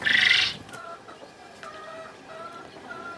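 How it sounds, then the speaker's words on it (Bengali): Japanese quail chicks feeding, with a burst of loud shrill calling at the start followed by repeated thin high peeps scattered across a quiet background. "দেখতে পাচ্ছেন কোয়েল পাখির বাচ্চাগুলো কত সুন্দর খাওয়া দাওয়া করতেছে"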